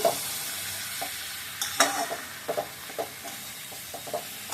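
A spoon stirs chilli powder and sugar into a fish curry in a pan, giving a soft sizzle broken by repeated scraping and tapping strokes at an uneven pace.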